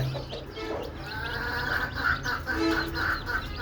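Desi hens and five-day-old chicks on a rooftop cluck and cheep steadily and fairly close, with overlapping peeps and soft clucks filling the whole stretch and no talking.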